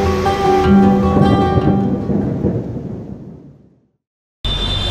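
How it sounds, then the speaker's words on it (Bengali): Heavy rain and thunder over Dhaka city, a loud rolling rumble with steady downpour that fades to near silence before the rain returns abruptly, with no talking. "তাও যেন তেন বৃষ্টি না, শহর ভিজানো বৃষ্টি, ব্যাপারটা ভালো লাগছে।"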